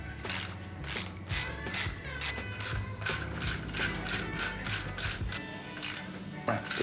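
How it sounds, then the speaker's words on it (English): Ratchet wrench on bolts of a Camaro 305 engine during teardown: a steady run of rapid clicking pawl strokes, close and clear, repeating in even pulses about twice a second. "we'll move on to the ratchet."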